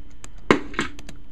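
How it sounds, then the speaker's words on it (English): A gunshot is followed quickly by the ring of a bullet striking a metal target, two sharp close bursts about a third of a second apart, with faint ticks around them. "So this is going to be the gunfire and the target being hit."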